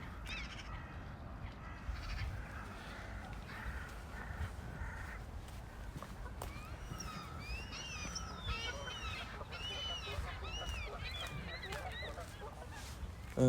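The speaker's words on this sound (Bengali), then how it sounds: "অনেক ধরনের পাখির ডাক শোনা যাচ্ছে।" Many birds calling at Alexandra Lake in a park, with geese honking, crows cawing and ducks mixed in, overlapping calls at moderate distance over steady outdoor ambience.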